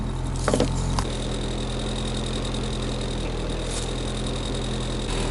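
A Honda Integra engine running after sitting on old gas, settled into a steady, close idle with a constant low hum, preceded by a couple of brief clunks at the start.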